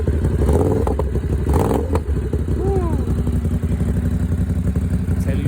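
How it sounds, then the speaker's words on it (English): A motorcycle fitted with a new aftermarket exhaust idles and revs up close, giving a loud rumbling throb with clattery mechanical texture that holds for several seconds. "Let's give it some gas."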